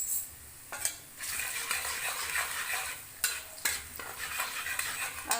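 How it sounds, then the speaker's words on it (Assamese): Onions sizzle with turmeric in a pan for samosa filling, a steady frying hiss broken by sharp scrapes and clanks of a spoon stirring against the pan. "আৰু এইখিনি মই অলপ ৰঙচুৱা পৰালৈ ভাজি থাকিম"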